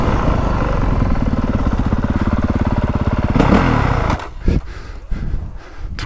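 A 2025 Honda CRF450R motocross bike ridden hard, its engine buzzing loud and close with a rapid rhythmic pulse, then the roar cuts out into wind noise and clattery chassis knocks.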